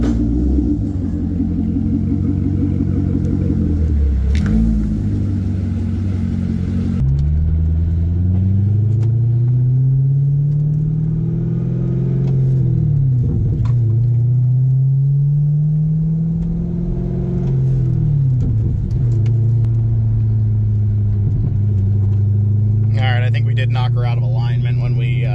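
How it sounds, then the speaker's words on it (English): Chevrolet Corvette Grand Sport out on a test drive, its engine giving a steady low rumble that rises and falls with throttle, heard from inside the car with talking over it. "let's go for a little drive, make sure everything's operating all right"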